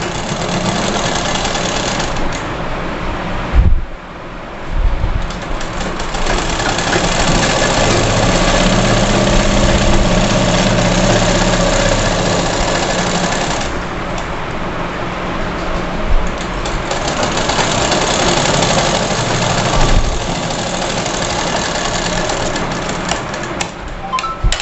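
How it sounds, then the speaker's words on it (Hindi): A sewing machine stitches the side seam of a girl's cotton frock, giving a long, loud, continuous motor whir close up with a few brief pauses and small bumps. "अब हम इसको बीच में ये सिलाई लगा लेंगे। इसको हम सिलाई लगा करके बंद कर लेंगे, जो हमारे साइड की सिलाई है।"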